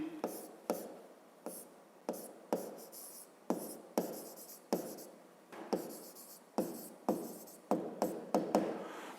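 A pen writes numbers on paper while a 5th-grade math exercise is solved: close, dry scratching strokes in short repeated bursts of about a dozen quick marks, with no talk over them.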